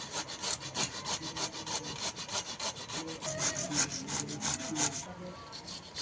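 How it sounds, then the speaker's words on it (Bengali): A tomato rubbed against a metal hand grater, rapid rhythmic rasping strokes close up, stopping near the end. "এখানে টমেটোটাও ঘষে নেব একইভাবে"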